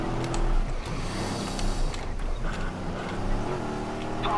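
A damaged, failing car engine in Watch Dogs, giving a rough, loud, close rumble with uneven surges and sputters during a chase, steady throughout without talk.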